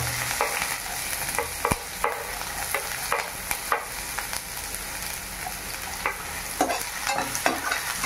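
Oil sizzles steadily as onion fries in a pan for tempering, with occasional sharp crackles and pops over a constant hiss; no one speaks.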